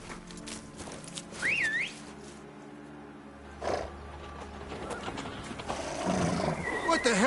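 A horse in The Witcher 3: Blood and Wine gives a shrill whinny early on amid game ambience, with hoof sounds and a second snort-like burst later.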